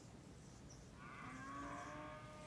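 A cow on a farm moos once, a drawn-out low call rising out of steady outdoor background noise, moderately distant and fairly faint, with no talking.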